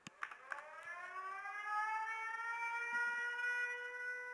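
An air raid siren sounds in Ukraine, a steady rising-then-sustained wail with strong harmonics that holds loud and unbroken, preceded by a few brief knocks at the start.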